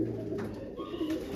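Racing pigeons coo inside a coop, a soft low rolling murmur that holds steady and close for a moment with no voices.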